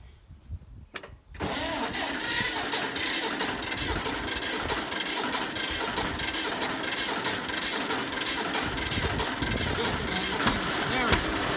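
A seventy-year-old farm tractor engine cranks briefly, then catches and runs steadily with a loud, rough mechanical rumble that fills the rest of the clip, with a couple of sharper knocks near the end.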